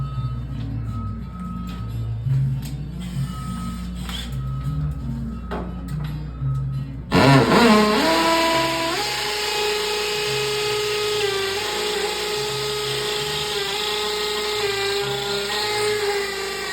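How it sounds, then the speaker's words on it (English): A power drill whirs up suddenly after a quiet stretch and keeps running at a high steady pitch for several seconds, a loud close whine with faint background hum before it starts, used during electrical wiring work. "Best drill. Does the job."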